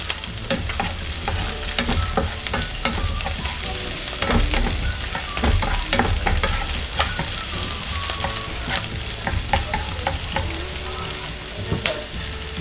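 Onions sauté in a pan for pork belly adobo, a loud, dense, continuous sizzle with frequent clicks and scrapes of stirring, heard up close with no voices.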